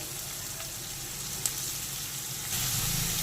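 Shredded cabbage, carrot, beans and chopped green chilli sizzle in a pan for lemon garlic chowmein, a steady moderate hiss that swells louder near the end, with one small clink.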